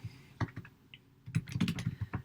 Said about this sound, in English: So I'm going to type it